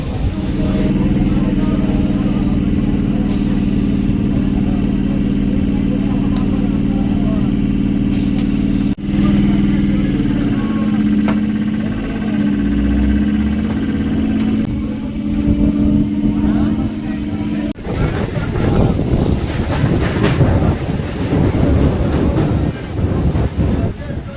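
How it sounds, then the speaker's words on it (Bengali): A Basirhat–Sealdah local train pulls into a station, a steady loud rumble and hum from the carriage that shifts and fades before a burst of clattering noise near the end, with a voice speaking over it. "এখানে ট্রেন দাঁড়াবে এক মিনিটের জন্য"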